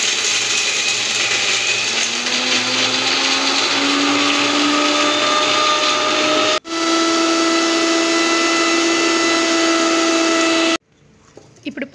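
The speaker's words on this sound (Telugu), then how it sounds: "మిక్సీ వేసేద్దాం" A mixer grinder whirs loudly and steadily as it blends a dry fruit juice with milk, its motor pitch shifting slightly, pausing briefly before running again, then cutting off into quiet handling sounds.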